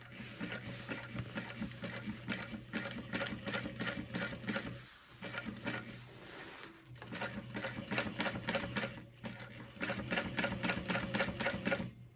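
A sewing machine stitches a cross-body sling bag in fast rhythmic runs, with a short pause midway before stitching resumes. The machine is close and clear, with no speech.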